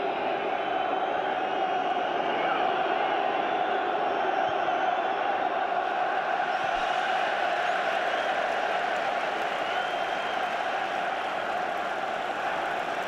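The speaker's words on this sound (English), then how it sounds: "I think even the crowd here are getting restless now. A lot of whistles." A restless football crowd at the 2007 FA Cup final between Chelsea and Manchester United, whistling in a large stadium: a steady, distant wash of crowd noise that runs throughout, with no clear speech.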